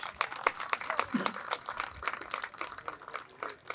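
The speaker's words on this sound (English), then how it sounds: "Let's give the Shriners a big round of applause." Crowd applause for the Shriners at the Hillbilly Days opening ceremony, moderately faint and continuous scattered clapping with talk mixed in.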